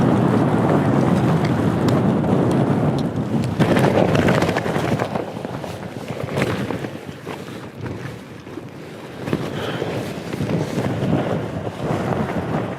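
Extreme wind battering a tent, a continuous loud roaring rush with gusty surges and flapping fabric that briefly eases midway before building again, with no talking.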